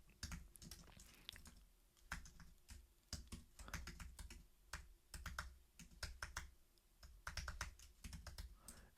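Quiet, close typing on a computer keyboard, irregular bursts of quick key clicks with short pauses between them, alone without talk.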